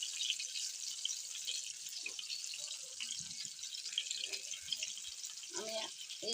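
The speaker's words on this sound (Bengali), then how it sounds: "তেলও গরম হয়ে গেছে, আমি পটলগুলো ভালো করে এখন ভেজে নেব।" Pointed gourd (potol) frying in hot oil, a soft, continuous high sizzle with scattered faint pops and clinks, while a voice talks briefly now and then over it.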